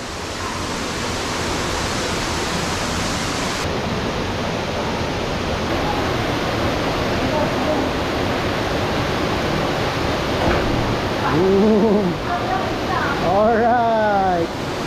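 Water rushes steadily along a waterfall stream, a dense, close roar that holds throughout, with voices calling out over it near the end.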